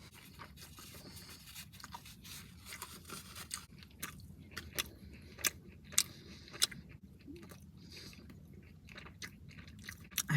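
Someone chews a Venezuelan arepa filled with shredded flank steak. Soft, wet chewing goes on close up, with scattered sharper crunches and clicks, quiet and without talk.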